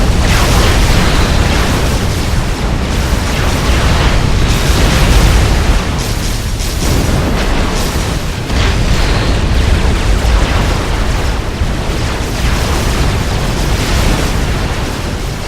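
Units firing and explosions in the strategy game Supreme Commander Forged Alliance, a loud, unbroken barrage of booms and blasts rumbling densely for over fifteen seconds.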